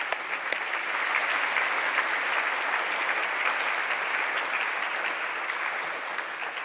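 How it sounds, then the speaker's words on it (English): A school address audience breaks into sustained applause, a dense, even wash of clapping from many hands that swells slightly and holds steady for several seconds. "So a round of applause for Marizan."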